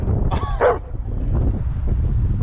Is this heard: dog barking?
yes